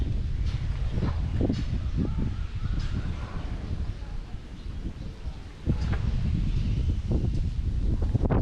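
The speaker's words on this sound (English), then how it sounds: "It's a very windy day." Strong wind gusts buffet a rooftop in Dhaka, Bangladesh, a steady roaring rush with rustling bursts and a brief lull before the gusting returns loudly.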